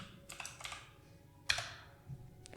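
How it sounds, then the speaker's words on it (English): Quick, faint keystrokes on a computer keyboard, a short run of light taps and clicks in a quiet room. "So let me type ads.txt."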